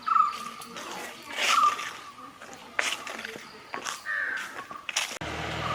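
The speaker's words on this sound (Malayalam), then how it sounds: "ഇതൊരു പക്ഷിയാണ്. അതിൻ്റെ ശബ്ദമാണ് കേൾക്കുന്നത്." A bird calls in Chimmini Wildlife Sanctuary in Kerala, giving several loud, repeated calls at fairly close range over quiet forest background noise.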